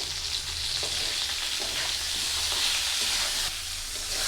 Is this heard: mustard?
yes